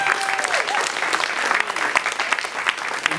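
An audience at an evening college finale performance applauds loudly and steadily in dense, continuous clapping that fills the whole stretch.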